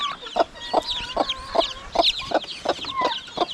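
Chickens on a small farm cluck repeatedly in short, evenly spaced calls, close and moderately loud, with other birds chirping faintly behind them.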